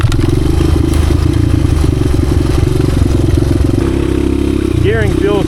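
1986 Honda XR200R dirt bike with a 52-tooth rear sprocket, its single-cylinder engine buzzing steadily and loudly nearby while riding, rattling and clattering over terrain, with a short rising rev near the end.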